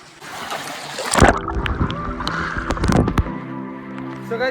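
Someone dives into swimming pool water, a sudden close splash followed by sloshing, gurgling underwater turbulence and a second burst of splashing, with voices heard faintly.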